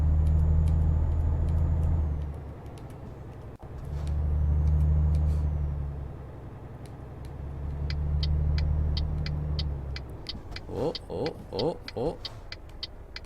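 Simulated truck engine in Euro Truck Simulator 2, a steady low drone rising and falling in waves, later giving way to a series of rapid ticking clicks like an indicator, heard alone without talk.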